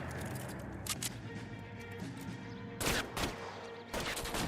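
Gunfire in the 1940s detective game L.A. Noire: a few sharp, loud shots at separate moments over a steady background din, with no voices.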